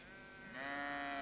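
A single sheep bleats nearby, a wavering nasal call that swells louder midway and holds to the end, with no talking.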